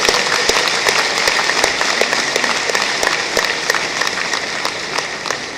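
A conference hall audience at an annual accountants' conference gives a sustained round of applause, dense, even clapping from many hands that stays loud and steady throughout.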